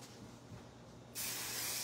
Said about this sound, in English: All right, let's spray these curls.